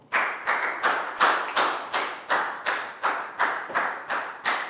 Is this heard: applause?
yes